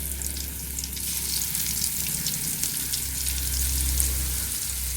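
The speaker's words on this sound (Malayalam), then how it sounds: "കിളിമീൻ വറക്കുന്ന ഈ കുഞ്ഞു വീഡിയോ" Kilimeen, threadfin bream, fries in hot oil with a steady, close, loud sizzle and crackle that holds unbroken throughout, with no voices.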